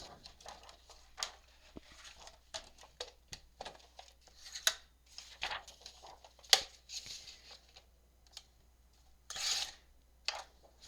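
Paper being cut with scissors into pockets for a folder made from four sheets of paper, heard as short, close snips and rustles at an irregular pace with quiet gaps between them.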